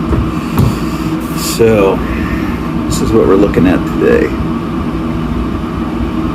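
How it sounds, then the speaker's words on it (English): A steady low range hood exhaust fan hum runs throughout, with a person talking over it in the foreground. "you might hear the fan with my hood in the background"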